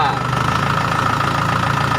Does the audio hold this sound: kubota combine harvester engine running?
yes